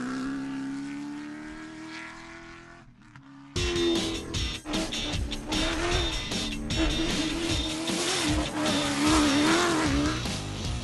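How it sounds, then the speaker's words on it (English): Ford Ranger cross-country race truck driven hard on a test session, a loud revving engine wavering in pitch with gear changes, gravel and road roar layered in, starting muffled then bursting up louder and harsher after a brief cut. "a pre-event test session of the local Ranger cross-country machine provided an opportunity to try out the racing bakkie for myself"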